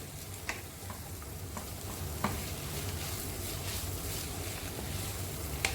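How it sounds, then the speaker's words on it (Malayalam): Spiced filling for chatti pathiri being stirred in a pan, a steady scraping and sizzling bed with a few sharp utensil clicks against the metal, close and continuous. "ഇനി ഇതിലിട്ടിട്ട് നന്നായി ഇളക്കി മിക്സ് ചെയ്തെടുക്കാം"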